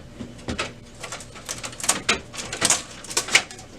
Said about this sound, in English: you might actually have to take the drawer all the way out.